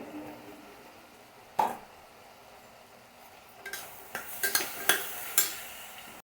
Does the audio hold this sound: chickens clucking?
no